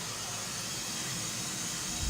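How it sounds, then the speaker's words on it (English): A vacuum cleaner runs with a steady, even hissing drone, close and continuous throughout. "Oh, that noise is my vacuum."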